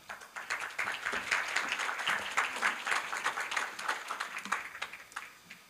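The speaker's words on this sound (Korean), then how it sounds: "박수로 맞아주시기 바랍니다" Applause from an audience at a Korea University business school event greets a startup founder taking the stage, a steady dense patter of many hands clapping at moderate distance that carries on for several seconds with no talk over it.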